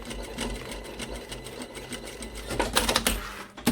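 Sewing machine making a short backtack stitch at the end of a zipper on a zipped pocket for a Perfecto-style jacket, quick bursts of close, rapid mechanical clatter with a brief pause partway through.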